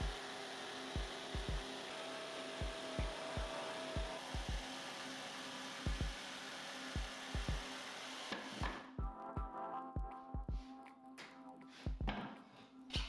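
A jigsaw cuts through wood for a small-shop workbench, running as a loud, steady whine with a rapid regular ticking chatter. Partway through the pitch and texture shift as the cut changes, and the saw keeps running to the end.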